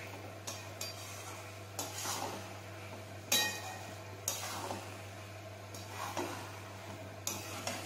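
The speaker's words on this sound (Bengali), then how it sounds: "এরপর ভেজে রাখা ডিম ভুজিয়াটা দিয়ে দিলাম, পুরো ডালের সাথে মিশিয়ে নেব" A spoon stirs fried egg bhujia into dal in a pan, giving soft scraping strokes punctuated by light metallic clinks at a loose, regular rhythm, close up with no talking.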